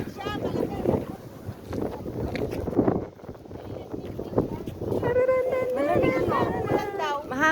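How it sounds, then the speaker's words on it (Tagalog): Wind buffets a microphone outdoors at a birthday gathering, a continuous rumbling roar that swells and dips, with people talking and a voice rising over it. "Mahangin lang."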